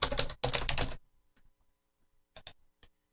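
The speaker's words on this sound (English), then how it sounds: "you can type the words you want in the list" Fingers type on a computer keyboard, two dense bursts of rapid keystrokes followed by a few scattered, quieter clicks and taps near the microphone.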